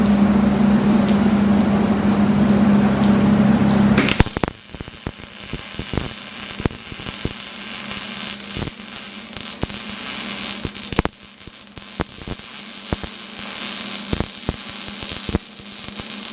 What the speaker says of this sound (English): We're going to weld this one side on, this one bracket, to the 21-inch piece.